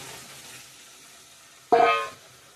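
Fried potatoes tipped into a thickened paneer curry set off a sudden loud sizzle that flares up, holds for a moment and fades, following a quiet stretch of low kitchen noise.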